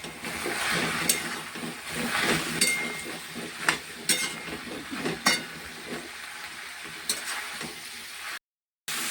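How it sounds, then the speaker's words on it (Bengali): Jackfruit pieces sizzle in a pan with water, chilli powder and turmeric as they are stirred into the spices, with soft frying hiss and periodic sharp clinks of a spatula against the pan. "ইঁচড়টা দিয়ে ভালো করে এবারে মশলার সাথে কষে নিতে হবে"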